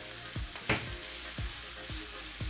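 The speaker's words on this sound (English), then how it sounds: "as you can see, all the veggies just frying up" Mixed vegetables sizzle and fry steadily in a hot pan, a continuous crackling hiss with a few soft stirring knocks, close and alone with no talk.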